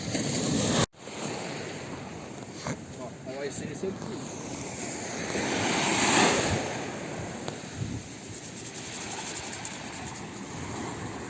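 Sea waves on the French Riviera, a continuous surf roar that swells and recedes with wind buffeting the microphone, while people talk over it.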